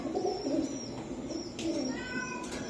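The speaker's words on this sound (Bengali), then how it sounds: "এটা উড়ানোর জন্য একটা টপ কোয়ালিটির কবুতর" Flying pigeons at a pigeon seller's loft coo softly and repeatedly, low throaty calls rising and falling close by over a faint background hum, with no talking.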